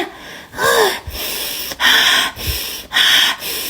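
Someone who has just pulled off a face mask takes several loud, close, deep breaths, alternating sharp gasping inhales with breathy exhales in a steady rhythm.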